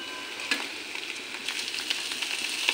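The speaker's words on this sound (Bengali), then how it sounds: "একটু ভাজা ভাজা করে নেব।" Stuffing for karkol (pointed gourd) fries in a pan, a steady close sizzle with faint crackles and a few soft stirring scrapes.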